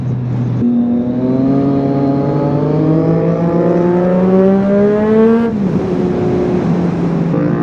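A 2017 Triumph Street Triple S motorcycle engine on the road, loud and close, pulling hard with pitch climbing through the gears, a shift early on and another later, with no talking.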